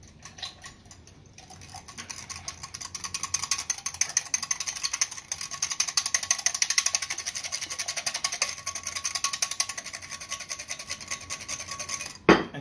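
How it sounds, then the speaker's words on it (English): A whisk beating waffle batter in a bowl, heard as a steady, rapid run of light clicking and ticking strokes that builds after the start and continues for several seconds, close and fairly quiet. "We're going to whisk this up."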